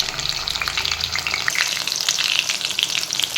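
Pointed gourd (potol) frying in oil in a pan, a steady crackling sizzle with bright spattering pops throughout, close and fairly loud.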